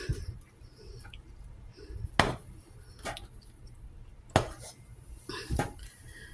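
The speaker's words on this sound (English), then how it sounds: "Let me stir this up." A marshmallow mixture for homemade rice treats is stirred in a pot on a low-heat stove, a spoon scraping and knocking faintly against the pot with a few sharper clinks.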